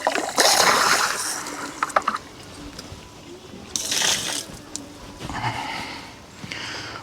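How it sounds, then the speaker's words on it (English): Water splashes and sprays while an RV water filter housing is rinsed out, coming in separate loud bursts with quieter dripping and trickling in the gaps. "I'm going to go ahead and rinse that down just to get as much out before we pump more water into the system"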